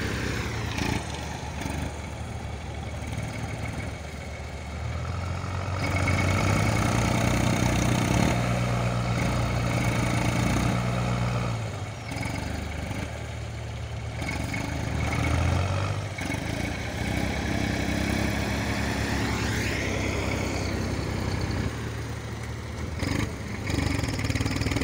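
The diesel engine of a 2009 Ford Cargo 2422 dump truck, bogged down at a silo, runs for a long stretch with a steady loud rumble, rising and falling revs, and no talk.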